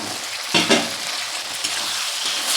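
Capsicum stir-frying with chopped chilli and ginger in a pan, steady hissing sizzle broken by a couple of quick scraping stirs near the start, close-up and alone without voices.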